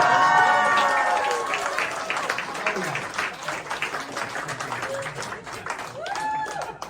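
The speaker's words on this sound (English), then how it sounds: "I want to give a big round of applause." Audience applause at a charity comedy show, loud at first and gradually thinning into scattered claps, with some voices and laughter mixed in.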